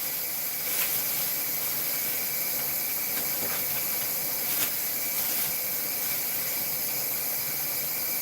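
Steady, moderately loud steam hiss from an electric pressure canner in a home kitchen, continuous throughout with faint clicks and no talking.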